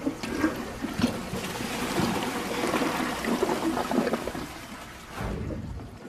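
A Champion 4 toilet flushing with a test load in the bowl: a loud, steady rush of swirling water for several seconds, then tapering into a trickle as the tank refills, with no voices.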